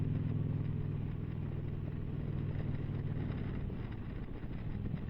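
Wind buffets the microphone outdoors on a cloudy spring horseback ride, a constant low rumbling roar with no voices.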